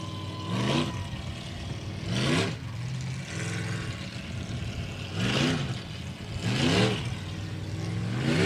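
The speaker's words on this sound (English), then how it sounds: "Engines revving down near the pits" Unlimited-class racing boat engines rev in loud repeated bursts near the pits by the boat launch, with rising surges around one, two, five and seven seconds over a steady engine drone.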